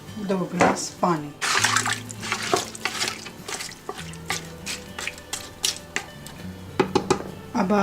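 Water is poured into a pressure cooker holding goat meat, garlic, onion, salt and turmeric: splashing and dripping bursts with pot clatter, under a nearby voice.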